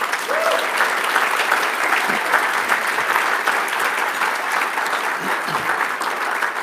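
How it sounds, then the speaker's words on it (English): Sustained applause from an audience at an awards luncheon, steady dense clapping filling the room throughout for the award winners, with no break. "Let's give a round of applause once again to all our winners."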